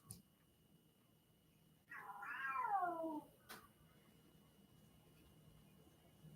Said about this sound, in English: You could probably just hear my cat in the background.